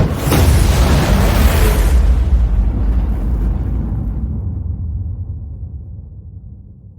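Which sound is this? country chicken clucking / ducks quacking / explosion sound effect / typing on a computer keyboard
explosion sound effect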